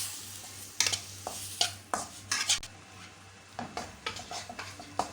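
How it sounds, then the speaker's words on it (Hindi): Butter is stirred into a thick milk powder burfi mixture in a pan. A spoon scrapes and clinks against the metal in quick, uneven strokes, close and fairly quiet, with a faint sizzle beneath. "इसमें हम बटर ऐड कर देंगे थोड़ा सा और इसको अच्छी तरह मिक्स कर लेंगे"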